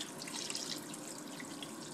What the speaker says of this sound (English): See, I like the sprayer.